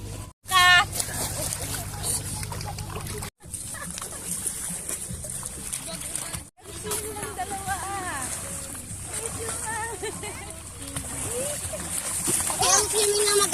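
Small dogs splash while swimming in water, giving irregular near splashes and paddling noises broken by short gaps, with people chattering and laughing throughout.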